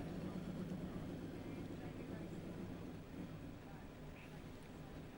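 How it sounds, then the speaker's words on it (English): A ramjet V8 superboat engine rumbles low and steady after firing up on the ramp at a superboat championship race, a constant distant drone throughout. "you won't be able to hear me over the engine noise of the ramjet machine, which has just fired up on the ramp"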